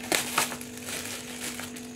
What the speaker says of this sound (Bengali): চলো কি দিয়েছে তোমাদের সামনেই আনবক্সিং করছি, দেখতে পাচ্ছ আমি এখনো খুলিনি, তোমাদের সামনেই খুলছি